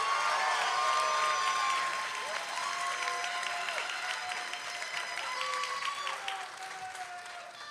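Audience applause at a university health sciences commencement ceremony, steady dense clapping from a large crowd indoors, sustained throughout with a faint tonal hum underneath and gradually easing in level toward the end.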